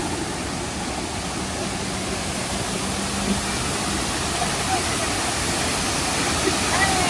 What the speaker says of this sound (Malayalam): ഇവിടെ നല്ല ഫോഴ്സിലാണ് വാട്ടർഫോൾസിൽ വെള്ളം വരുന്നത്.